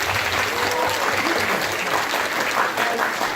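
Audience clapping steadily at a school ceremony, honoring two students, a dense and even burst of applause filling the hall with no break.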